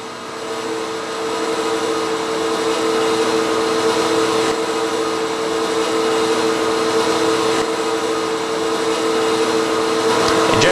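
Deep fryer oil filter pump running steadily, a continuous loud mechanical whine and hum with a steady tone throughout.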